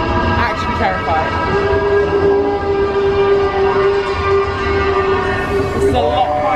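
Steady rumble of a train rolling along the rails, with a sustained whining tone and occasional squeals over the constant low roar.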